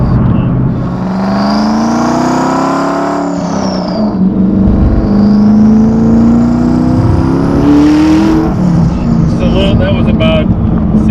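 A Hennessey GT1000 twin-turbo Ford GT engine revs and accelerates through rising gears at about 60% throttle, loud and close with a whining pitch climbing, while people talk over it.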